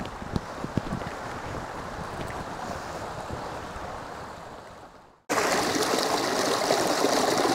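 Steady rushing water of a creek flowing through a winter forest, continuous and fairly close, with a brief dropout before it resumes louder.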